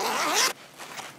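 A zipper pulled in one quick, loud rasping stroke for a drone commercial sound effect, followed by softer rustling handling noise.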